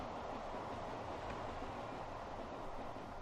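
A Conrail train running in the Transport Fever video game, a steady broadband rumble of rolling rail cars that holds at an even level throughout, with no voices present.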